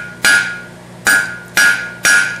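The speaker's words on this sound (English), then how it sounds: "I'm just going to flatten him out, just a few hammer blows" A blacksmith's hammer strikes hot iron on an anvil to flatten it. Four loud, ringing metallic blows land at an uneven, unhurried pace, each with a short bright ring-out and no talking.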